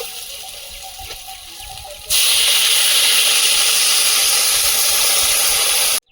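Water poured into a pan of potatoes frying in oil for potato dal, a quiet kitchen background that suddenly bursts into a loud, steady sizzling hiss lasting several seconds before cutting off.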